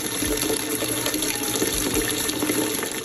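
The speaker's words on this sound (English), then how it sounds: "I'm putting the water in the pan because I'm about to boil the sweet potatoes first" Tap water pours steadily into a cooking pan being filled to boil sweet potatoes, a continuous close splashing hiss with no talk.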